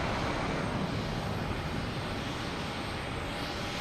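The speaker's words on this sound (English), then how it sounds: "Our next to arrive will be that JetBlue coming in from Aruba." A JetBlue jet airliner arriving at Boston Logan Airport from Aruba makes a steady, loud engine roar that fills the whole stretch without a break.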